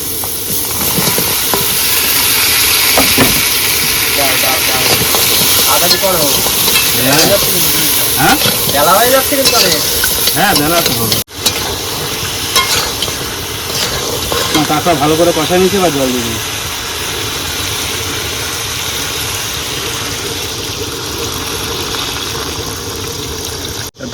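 Crab and potatoes dropped into spiced onion masala in a pot aboard a boat on a Sundarbans river, setting off a loud, continuous hiss and sizzle that fades to a softer steady frying, with voices talking over it.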